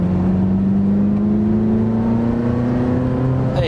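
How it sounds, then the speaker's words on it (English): A road-legal 1995 Ferrari F355 Challenge accelerates, its engine a loud, close, steady drone rising slowly in pitch as it pulls through the gear. "put your foot down, the car will just go"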